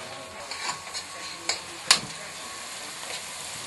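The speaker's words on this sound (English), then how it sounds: "when you make this scallion and garlic and the pepper, just fry a bit in here" Scallion, garlic and pepper frying in a pan for a callaloo dish, a soft steady sizzle with a few sharp utensil clicks and stirring scrapes, close by with no talk.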